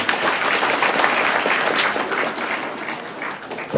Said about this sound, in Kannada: ಒಂದು ಜೋರಾಗಿ ಚಪ್ಪಾಳೆ